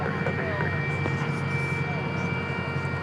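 Steady roar of a jet airliner engine at DFW Airport, distant and continuous over a broad rumble, with someone talking over it.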